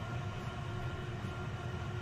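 A train pulls into a platform in the Transport Fever 2 simulation game, a steady low rumbling roll of rail cars, moderately quiet and continuous with no voices.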